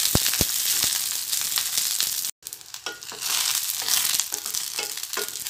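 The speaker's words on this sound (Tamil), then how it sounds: "இப்போ கத்திரிக்காய் நல்லா ஃப்ரை ஆயிடுச்சு" Eggplant pieces fry in oil in a pan over medium heat, giving a bright, continuous sizzle with scattered crackles and stirring scrapes, broken by one brief gap.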